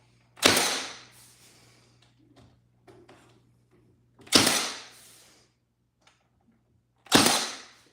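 A nail gun driving fasteners into quarter-round trim during drywall finishing: three sharp, close pops, each several seconds apart, with faint handling noises between them and no talk.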